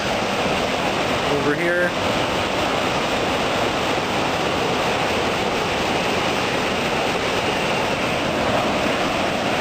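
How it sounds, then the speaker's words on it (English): The Kbal Chay Waterfalls send out a steady, broad roar of rushing water, with a brief voice heard near the start. "we have a nice view of the waterfalls"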